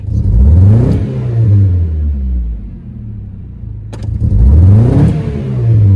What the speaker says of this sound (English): Starts alright, idle's alright, but like, listen to the misfire.